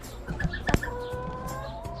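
Chickens cluck and squabble over grain pellet feed in a farmyard, a steady busy clucking with one sharp louder squawk near the middle, close by, with no voices.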